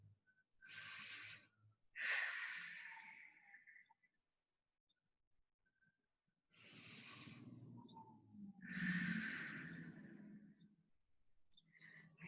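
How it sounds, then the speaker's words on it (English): Slow, deep breaths during a reclining stretching class: two pairs of close, airy inhales and exhales, separated by a few seconds of near silence. "Take 2 deep breaths."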